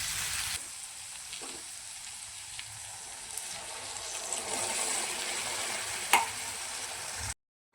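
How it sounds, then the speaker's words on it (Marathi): Pea and chickpea curry simmering over a low gas flame, a steady soft bubbling hiss that runs evenly with one brief louder pop before cutting off. "तर बघा भाजीला उकळी आलेली आहे"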